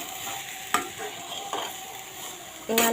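Egg sandwich filling with chicken masala stirred in a pan, a spatula scraping in a few distinct strokes over a low steady sizzle, ending in a louder clattering scrape.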